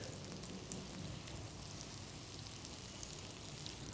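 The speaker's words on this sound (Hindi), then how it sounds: "प्रॉन्स में जब अच्छी तरह से कोटिंग हो जाए तो इसे शैलो फ्राई करना है" Marinated, coated prawns shallow fry in a pan with a constant, even crackling sizzle, heard up close and alone without any talk.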